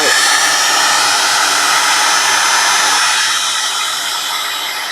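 A heat embossing tool blows a steady, loud roar of hot air over a card, a continuous hiss held close to the microphone from start to finish that eases slightly toward the end.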